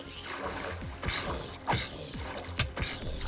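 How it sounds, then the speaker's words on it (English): Steady running water trickles and splashes in a Minecraft world, a continuous low wash with a few brief game clicks and thuds over it, fairly quiet. "I hear running water as well."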